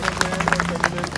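Audience in a foundation event hall claps, a dense run of applause with sharp hand-strike bursts throughout, fairly loud and steady, with crowd murmur and a sustained tone beneath.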